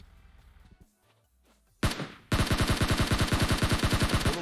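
Rapid automatic gunfire in PUBG Mobile on the Miramar map, a long steady burst of evenly spaced loud shots following a single earlier blast and a quiet stretch.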